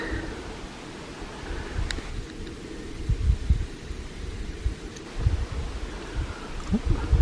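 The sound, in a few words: wind in the mountains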